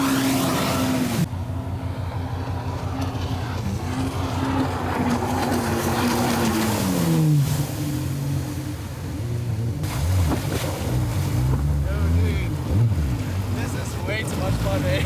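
A motorboat engine drones loudly and steadily, its pitch swinging down and up as the throttle changes, with water and wind noise and people talking over it.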